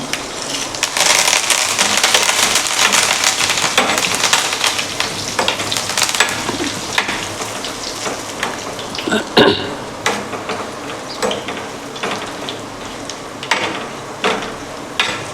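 Dry red chillies and curry leaves spluttering in hot tempering oil with mustard seeds and garlic for a leafy dal, loud close crackling that gradually thins into scattered pops and a few stirring scrapes.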